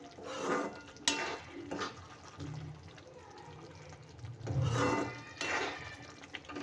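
A pot of raw banana sambar simmers on the stove, with soft, uneven bubbling and watery swells that rise and fall, plus a faint clink now and then, close and fairly quiet.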